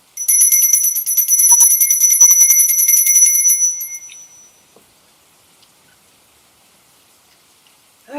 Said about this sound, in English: I'm literally going to have to ring the bell.